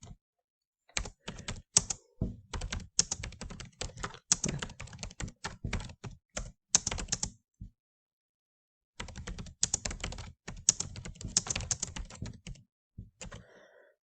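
Keys clatter on a computer keyboard in quick irregular bursts, with a pause of about a second near the start and a longer pause midway, close and fairly quiet with no voices.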